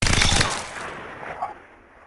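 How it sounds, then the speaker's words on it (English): A burst of rapid gunfire in a first-person game editor, bullets striking stone tiles, loud and close for about half a second before a decaying ring-out with a faint impact after. "so if I shoot it now"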